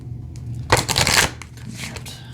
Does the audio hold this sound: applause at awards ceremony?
no